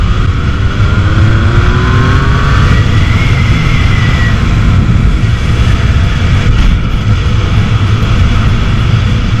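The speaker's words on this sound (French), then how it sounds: "avec le son de la sortie Accra là, oh, c'est démentiel." A Yamaha MT-09 motorcycle with an aftermarket Akrapovič exhaust roars loudly and continuously from up close, its pitch rising as it accelerates hard, with heavy wind rumble throughout.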